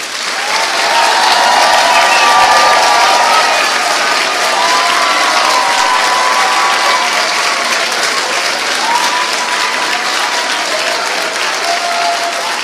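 Sustained audience applause fills a hall after a middle school honor mixed choir performance, dense and steady throughout with a faint cheer or two mixed in, no talking over it.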